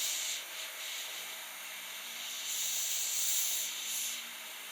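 An airbrush spraying paint onto a model, a steady, fairly quiet airy hiss that swells slightly and fades over a few seconds with no speech.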